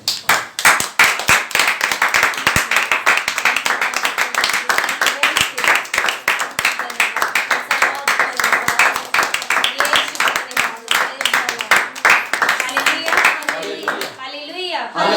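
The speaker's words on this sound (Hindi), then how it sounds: "जोरदार तालियां बजाएंगे और स्वागत करेंगे" Congregation in a church clapping loudly and rapidly for a sustained stretch, dense overlapping handclaps with voices mixed in, ending in a brief quieter moment at the close.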